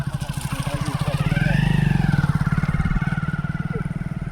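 A motorcycle engine putters with a steady, rapid pulse, rising briefly as it accelerates, heard close up while riding along.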